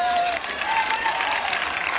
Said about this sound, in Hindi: कैसे ताली बजाते हो?